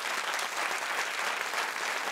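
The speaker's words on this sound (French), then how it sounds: "Applaudissements, s'il vous plaît." An audience at a French talk show claps in a steady, dense burst of applause, moderately quiet and continuous with no voices over it.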